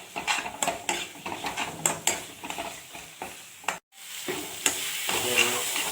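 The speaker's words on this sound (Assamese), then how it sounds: "গ্ৰীণ মটৰটো দি কিনে অলপমান আকৌ ফ্ৰাই কৰি দিওঁ" Green peas and potatoes fry in a pan, with close, steady sizzling and repeated scraping and stirring clatter, a brief silent break, then the sizzle resumes.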